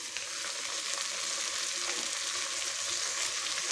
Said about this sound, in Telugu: ఒక 2 minutes ఫ్రై చేశాక బీన్స్ వేసేసుకుందాం